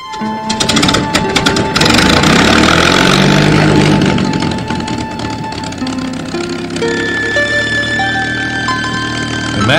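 A P-51 Mustang's Packard-built Rolls-Royce Merlin V-1650-7, a 1,650 cubic inch engine with a carbureted two-stage supercharger rated at 1,580 horsepower, runs loudly and steadily throughout, its droning tone shifting in pitch partway through.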